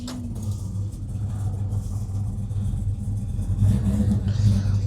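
A restored 1956 Chevrolet 210 coupe with Sniper EFI runs with a steady low engine rumble that swells slightly as it pulls away, close by and continuous.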